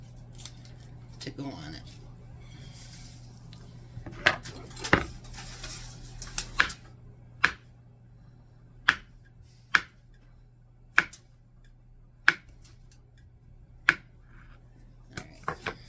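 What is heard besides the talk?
slicing pads of butter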